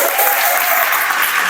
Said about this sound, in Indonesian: mari tepuk tangan dulu dong